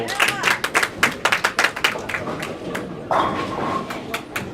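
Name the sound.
crowd clapping at a bowling match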